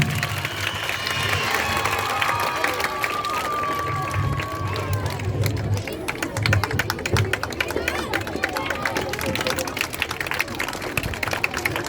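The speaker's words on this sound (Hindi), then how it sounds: "जोरदार तालियां फॉर कमलजीत मैम" A crowd applauds a teacher, Kamaljeet Ma'am, at a Teacher's Day celebration, with clapping building into a busy, uneven patter over the second half, mixed with music and chatter early on.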